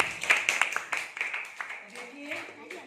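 Students in a Hindi class clap for a classmate's drawing, a short burst of scattered claps that thins out and fades, with a teacher speaking over it.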